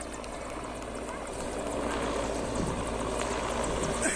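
A helicopter flying relief supplies to flood-hit areas throbs steadily with a broad rotor roar that swells slightly louder midway, continuous and fairly close, with no clear speech.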